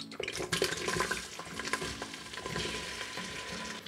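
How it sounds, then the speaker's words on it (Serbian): Onion sizzles in hot oil in a deep, large pot for a sataraš preserve, a close crackling fry broken by a few spoon stirs and scrapes against the pot. "Luk pržite dok ne postane staklast, otprilike nekih 10 minuta"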